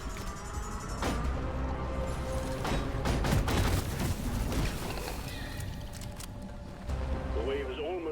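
Video game gunfire rattles in dense bursts and booms for several seconds, with a short pause near the end, mixed with other busy game effects.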